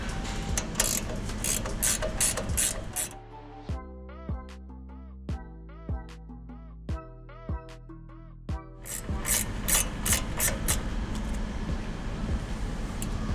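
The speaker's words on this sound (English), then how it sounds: "Tighten this nut up." A ratchet tightens a nut on the front suspension of a 2021-2025 Chevrolet Suburban, a row of crisp evenly spaced clicks at close range, set between louder stretches of rapid mechanical rattling.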